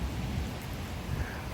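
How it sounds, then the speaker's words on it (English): Steady rain falls hard outdoors during a strong, gusty thunderstorm in Frisco, Texas, a dense continuous hiss with low wind rumble on the microphone, even in level throughout. "Yeah, it's still raining pretty good out here."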